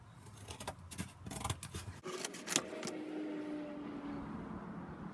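Cardboard being cut out for a template gives irregular snipping and scraping, with a scrape or faint tool sound partway through, quiet and close.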